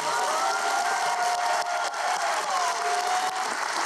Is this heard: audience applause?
yes